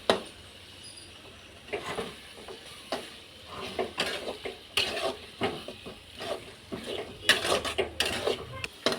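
Prawn roast and masala are stirred together in a pan, with close, uneven scraping and clinking strokes over a soft sizzle that grow busier toward the end.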